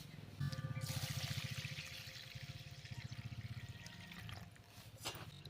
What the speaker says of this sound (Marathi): आता हा तांदूळ आपण धुवून घेऊया